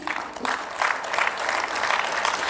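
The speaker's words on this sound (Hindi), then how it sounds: "आपकी तालियों में किसी प्रकार की कमी नहीं होनी चाहिए" Steady audience applause fills a school felicitation ceremony in Lucknow, a dense and continuous patter of many hands clapping at moderate volume for the whole stretch.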